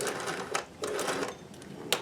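A sewing machine reverse stitching a hem, with short bursts of rapid mechanical stitching separated by brief pauses, quiet and close.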